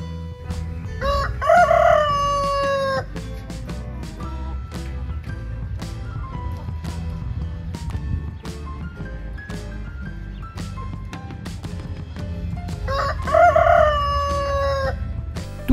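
A rooster crows twice, about ten seconds apart, each a loud, close, rising cock-a-doodle-doo set against steady music that runs throughout.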